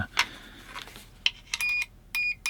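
A filthy, cracked, roughly 25-year-old continuity tester gives several short clicks and scrapes, then two sustained electronic beeps with a brief chirp at the end, close and clear.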